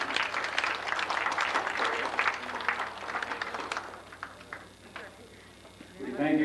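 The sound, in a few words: applause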